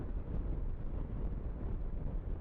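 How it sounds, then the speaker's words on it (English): Steady, loud wind roars and buffets the microphone in a continuous low rumble, with no talking, outdoors on a gusty day. "it is a bit gusty out here today."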